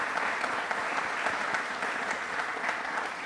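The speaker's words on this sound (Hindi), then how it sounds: "तो तालियां प्लीज एक बार जोरदार पहले इसके लिए होनी चाहिए।" An audience at a Republic Day quiz programme bursts into steady, dense applause that carries evenly from start to finish with no pause.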